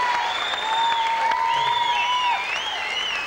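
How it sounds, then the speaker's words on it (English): A crowd at a fight promotion event applauds a fighter, steady clapping running throughout beneath a voice speaking over a microphone. "Sam Massa, come on, a big round of applause."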